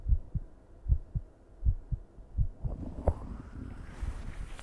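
A soft, steady heartbeat used as a calming ASMR trigger, with paired low thumps in a slow, regular rhythm, close and muffled. A faint hum and rustle build under it toward the end.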